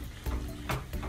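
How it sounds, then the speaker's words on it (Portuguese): Potato rösti frying in olive oil in a pan over medium heat, a steady close sizzle with a few soft scraping stirs. "agora ele vai ficar aqui mais ou menos cozinhando, fritando"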